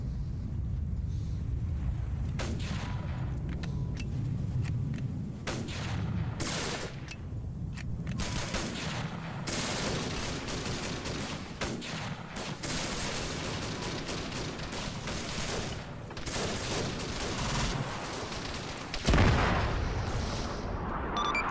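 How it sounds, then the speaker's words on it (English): In a video game, an air support gun run strafes an enemy vehicle on a bridge: sustained rattling bursts of heavy gunfire and booming impacts roll on for twenty seconds, with a sharp loud hit near the end. "Yeah, so air just hit it with a gun run."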